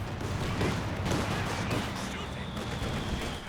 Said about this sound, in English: Grenades been thrown.